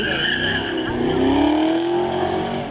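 A heavy front-engined V8 Mustang RTR drift car, formerly a drift champion's, slides past with a loud, sustained tire squeal and roaring engine note that rises steadily, close and continuous throughout a demonstration run.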